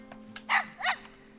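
Wolves in a Planet Zoo enclosure give two short, clear barks or yips close by, with a faint steady hum of game ambience underneath.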